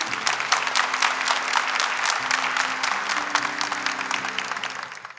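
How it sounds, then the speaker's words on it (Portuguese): Sustained applause from a church audience after a Catholic sermon, a dense crackle of many hands filling the room, steady and then tapering off at the end, with no talk over it. "Uma salva de palmas para a palavra de Deus."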